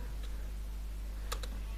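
A few sparse keystrokes on a computer keyboard as wp-admin is typed into a website's browser address bar. The clicks are quiet and isolated, over a steady low hum, with no talking.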